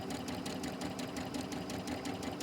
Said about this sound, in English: So I'm just going to sew just a little bit beyond the white square.